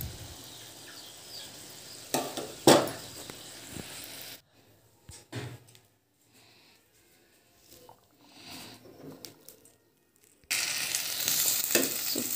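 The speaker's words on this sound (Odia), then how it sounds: "ଶୁଖୁଆ ଭଜା ଦେଖୁ" Dry fish frying in a pan in a home kitchen, with a steady hiss and sizzle broken by bursts of stirring clatter, then a quieter stretch before the loud frying resumes close by.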